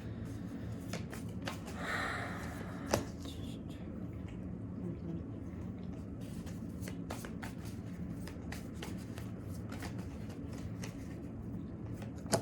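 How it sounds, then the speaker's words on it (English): A tarot deck, the Light Seers Tarot, shuffled and drawn by hand, giving soft riffling and papery flicks over a steady background hiss, with no clear speech. "I'm pulling 5 cards from the Light Seers Tarot by Donnelly"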